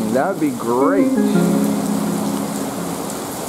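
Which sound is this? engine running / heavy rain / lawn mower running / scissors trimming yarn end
heavy rain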